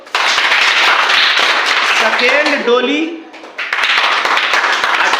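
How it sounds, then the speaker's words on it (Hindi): Audience clapping for quiz winners in a class-nine general knowledge quiz, steady broadband applause filling most of the clip, dipping briefly in the middle while a voice speaks over it. "ताली मार दो।"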